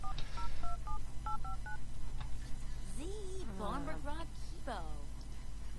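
Touch-tone phone dialing beeps from a life simulation video game play as a quick series of short, evenly spaced tones, followed by faint electronic chirps, while a voice talks over the game sounds.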